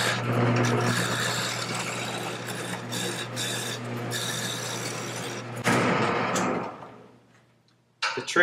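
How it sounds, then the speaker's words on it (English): Chisel cutting wood on a spinning lathe, a steady close rasping scrape over a low motor hum that stops, leaving a winding-down whir and a final knock. "hold the chisel firm and have the cutting edge cutting at an angle and hold it at a consistent angle"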